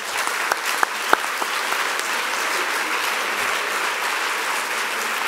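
Sustained audience applause at a French awards ceremony, a dense, steady wash of many hands clapping for several seconds, with a few sharper individual claps standing out near the start.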